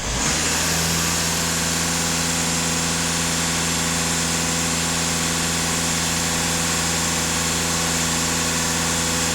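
A diesel car engine idles with a loud, steady, close drone and an even mechanical rumble that holds without change and without talking.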